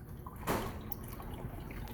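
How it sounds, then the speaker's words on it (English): Water splashes and drips in a coral farm aquarium: a faint, steady trickle with one brief louder splash near the start. "I don't know if that's going to be enough to make it quieter, but can't leave it splashing like this."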